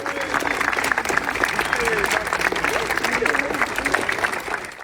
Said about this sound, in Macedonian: кои го пречекаа со громогласен аплауз и прегратки